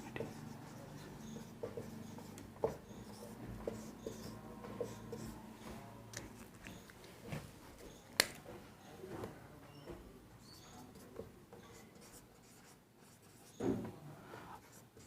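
Chalk-like scratching and tapping strokes of writing on a board in a lecture room, quiet and intermittent, with short scrapes and occasional sharper knocks.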